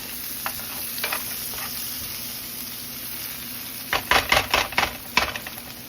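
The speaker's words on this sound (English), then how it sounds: "We're gonna just give this a stir." Onions and gravy mix sizzle quietly in a pan while a spoon stirs them, with a few soft scrapes early on and then a quick burst of louder scraping and clinks against the pan near the end.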